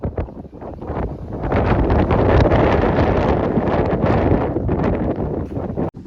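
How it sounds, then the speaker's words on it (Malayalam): Strong wind buffets the microphone at a hilltop viewpoint at Amappara, a loud, continuous roar of rushing gusts that swells after the first second and holds steady throughout, with no voices. "അങ്ങേ സൈഡിലേക്ക് ഭയങ്കര കാറ്റാണ്, ഒന്നും പറയുന്ന കിട്ടാത്ത രീതിയിലുള്ള കാറ്റാണ് അവിടെ"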